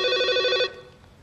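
An old-style telephone bell rings loudly and close by in a quiet room for one short burst, then cuts off.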